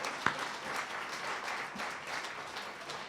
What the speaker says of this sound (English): give yourself a round of applause for just being here